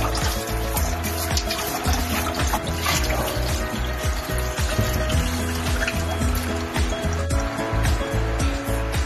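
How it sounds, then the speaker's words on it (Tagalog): Rice grains being washed and kneaded by hand in water, with close, loud sloshing, splashing and trickling, irregular pulses of swirling liquid and grains rubbing, continuing steadily with no talk. "hugasan na natin ang bigas ng maayos. Lamas-lamasin ang bigas para mawala ang dumi."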